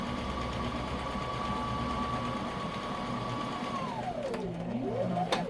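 Sewing machine stitching diaper cover fabric, a steady continuous mechanical whir that slows and winds down near the end as it reverses to backstitch, alone without talk.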